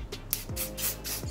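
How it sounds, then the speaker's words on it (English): Short hissing bursts of hair spray go onto the lace edges of a blonde lace front wig, close up, with several quick puffs in a row. "I'm going to go back in with this blasting free spray and just kind of go over the edge"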